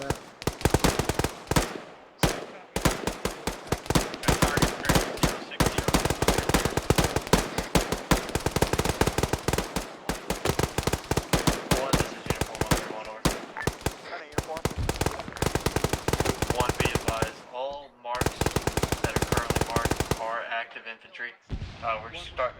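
Rapid automatic gunfire in ArmA 3 combat, long bursts of sharp cracks nearly continuous for most of the stretch, then breaking into shorter separated volleys near the end, with voices talking at points.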